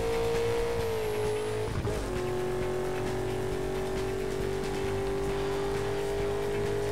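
Car driving in Burnout Paradise Remastered on PS4 Pro, the car badly wrecked: a steady engine drone with a pitch dip and tire scrape near two seconds, continuous and loud throughout.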